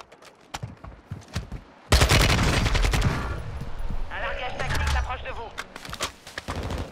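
Rapid bursts of automatic gunfire from the video game Warzone, loud and close with repeated volleys and sharp single shots, while a player talks over the action.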